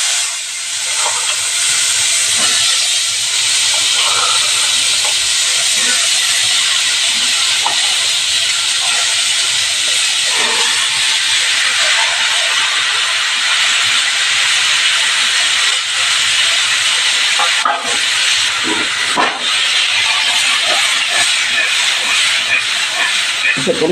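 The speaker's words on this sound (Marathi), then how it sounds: "मी पावटे त्याच्यावर फोडणीला टाकणार आहे" A loud, continuous sizzling hiss of field beans tempering in hot oil with turmeric fills the whole stretch, with a few faint clinks and soft sounds underneath.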